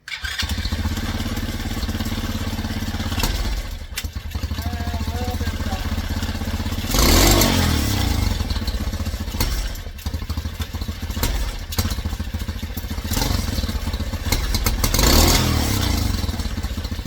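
An older Tao Cheetah with a newly installed number 40 carburetor pilot jet idles loudly and close by, then revs in two sharp surges that fade back to a rough, slightly hesitant idle, with rattling and clattering throughout.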